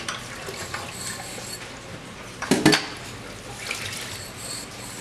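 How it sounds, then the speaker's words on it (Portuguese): Dishes and cutlery are scrubbed in a sink basin of water, soft sloshing and rubbing with a brief louder clatter of dishware midway, close and without speech. "Então vamos esfregar aqui nessa água."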